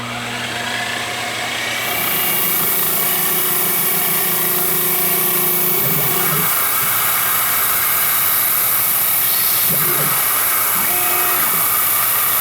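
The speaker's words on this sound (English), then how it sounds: "it's a great big drill" A large drill machines a control panel box for a lathe electronic leadscrew, giving a loud, steady mechanical whine that holds throughout, with a few brief shifts in pitch as the cut changes.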